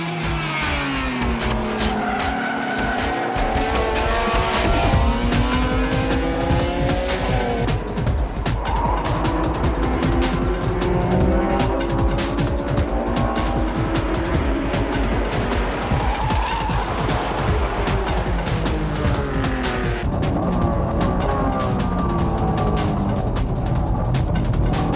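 A Honda NSX-R on racing slicks battles race cars on a circuit, with loud continuous engine roar, rising and falling revs through gear changes, and squealing tires throughout.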